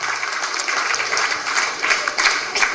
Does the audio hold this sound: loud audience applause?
yes